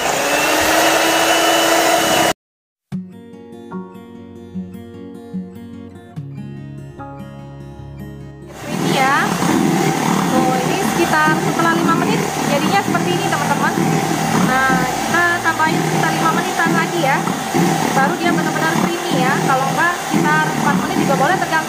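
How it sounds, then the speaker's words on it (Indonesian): An electric mixer beats powdered sugar and eggs until creamy for a layered Surabaya sponge cake. After a short burst and a gap filled with music, it runs as a loud, steady whir for the rest of the clip. "saya kocok ya. Kita kocok sampai creamy, lebih kurang sekitar 10 menit."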